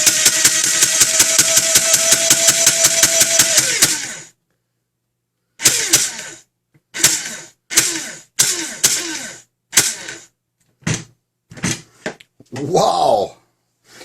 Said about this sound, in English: let's burn out this motor. Let's try it to 9 volt.